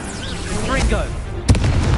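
A Fringo spell cast in Hogwarts Legacy bursts out as a sudden sharp boom with a rumbling tail, following a stretch of whooshing magical swirls, while a voice talks over the action.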